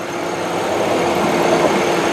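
Engine of a 2000 Ford Windstar SEL minivan idling steadily, a smooth continuous hum held at an even level with no other sounds over it.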